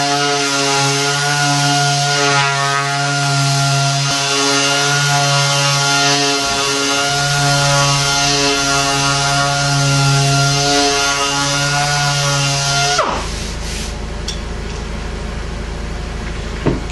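A power sander runs steadily on a wooden beaded-panel cabinet door, a loud continuous motor whine with strong harmonics that drops in pitch near the end as the tool changes load or stops.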